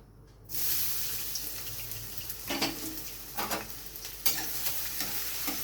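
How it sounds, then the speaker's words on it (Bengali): Chopped onion stirred in hot oil in a wok for an egg tarka: a steady frying sizzle starts abruptly, with several sharp scraping stirs of the spatula rising above it, close and moderately loud, with no talking. "পেঁয়াজ কুচিটা দিয়ে আমি একটু নেড়ে নিচ্ছি"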